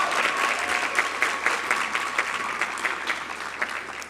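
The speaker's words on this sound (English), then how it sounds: "I would like to ask our graduates to applaud their families, friends, and partners for their support over the years." Graduates at a university spring graduation ceremony for the Faculty of Humanities applaud their families and friends, a steady, dense round of clapping from a large indoor crowd with no speech over it.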